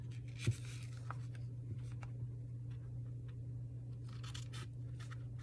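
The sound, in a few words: cutting a paper page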